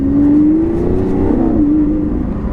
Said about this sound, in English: there is no sound like a Lamborghini V12